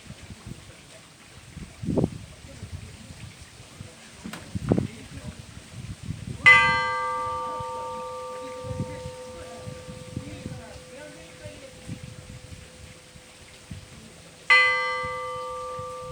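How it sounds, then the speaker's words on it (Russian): Large church bells of the Volgograd eparchy sounding a weekday peal: two separate resonant strikes, several seconds apart, each ringing out with a long, slowly fading hum over quiet outdoor background. "А также представлю вам один из вариантов будничного звона."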